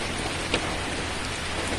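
Steady rain pours down over rice fields, a dense, even hiss of drops on the surface with no pause.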